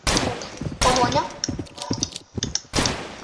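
Rapid bursts of video game gunfire crack through the mix, with several sharp shots overlapping a person talking excitedly.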